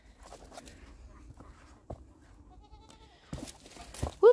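Goats bleating in a morning pen on a homestead, a few brief scattered calls with light footsteps and rustling, ending in one louder close bleat.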